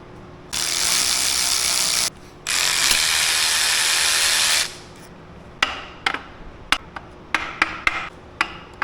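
Tools work a plate off a Tremec TKX transmission: two long bursts of loud spraying or air hiss, then a run of sharp metallic clicks and taps, close up, with no voices.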